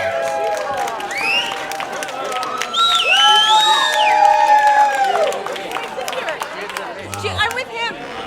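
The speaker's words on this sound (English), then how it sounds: "Let's have a round of applause for Bertrand Truffaut" A film festival audience cheers and applauds steadily, with whoops and excited chatter rising and falling throughout.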